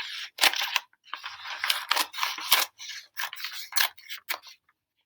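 Scissors cutting along a line on a paper page, a series of crisp snipping strokes in uneven bursts with short pauses between, close and clear with no talking.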